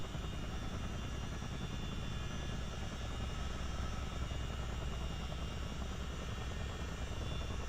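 A CH-47D Chinook helicopter in Microsoft Flight Simulator taxis on its wheels, its twin rotors and turbine engines holding a loud, steady, droning whine and throb with no change.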